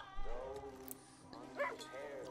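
A dog whimpers in the video game Far Cry 5, giving a couple of soft, rising-and-falling whines over a low background hum, with a brief higher yelp partway through.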